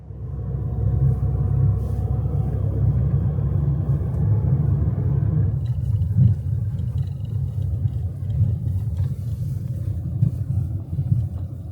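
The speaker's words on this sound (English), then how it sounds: "So I'm currently driving on a road that I've never been on before" Steady low rumble of a car driving along a road, heard from inside the cabin, with continuous engine and tyre drone that shifts slightly in tone midway and carries on without a break.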